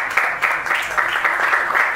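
Audience members clap at a rock band's press conference, a dense, fairly loud patter of hands that stays even throughout, with no voices over it.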